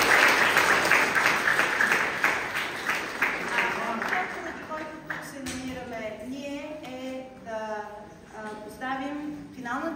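Audience applause at a school event in Dimitrovgrad, steady and fairly loud for the first half, then fading as a voice begins speaking over the tail end.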